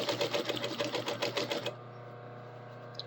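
Close, rapid stitching from a sewing machine rattles through fabric in an even pulsing rhythm for under two seconds, then stops and leaves a faint motor hum.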